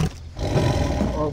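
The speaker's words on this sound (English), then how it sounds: "Oh god, this lion is crazy." A lion in Far Cry 3 lets out a deep, rough roar that swells after a brief pause and holds for about a second, loud and near, with a voice mixed in.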